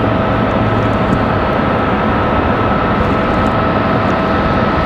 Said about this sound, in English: Republic 4804 is getting ready to head off to JFK.